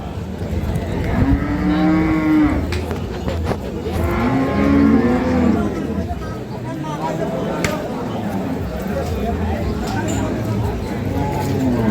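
Dairy cows moo repeatedly at a busy cattle market in Ambari haat, Dinajpur. The long, loud lowing calls rise and fall over a steady crowd murmur, with people talking throughout.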